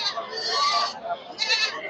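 Black Bengal goats bleat at a busy livestock market, with several near, wavering cries rising over background crowd chatter and voices.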